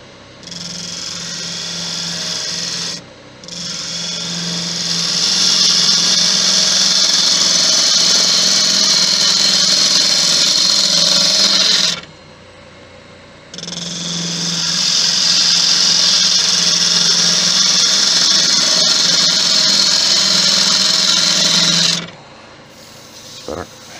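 Lathe turning a Thai redwood vase, a steady loud scraping hiss of the cutting tool against spinning wood in two long passes with brief pauses between.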